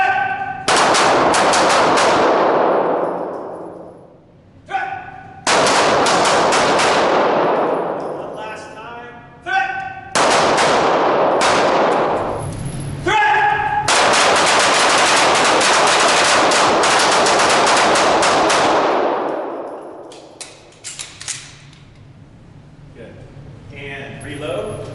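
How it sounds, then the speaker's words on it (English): Loud gunshots from close-quarters handgun drills, fired in quick bursts on a threat command: several sharp, ringing reports with decaying echoes, separated by short pauses, with voices talking between the volleys. "Let her rip with 2 rounds on the threat command."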